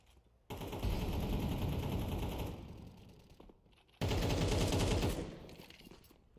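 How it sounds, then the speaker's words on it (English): Sustained rifle gunfire in a competitive video game match, a dense rattling burst that fades, then a second loud burst after a brief lull, with no talk over it. "Rifles out in full force."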